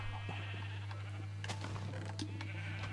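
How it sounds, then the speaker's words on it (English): Sheep in Minecraft bleat softly a few times over a steady low game hum and faint ambient clicks, with no talking. "sheep"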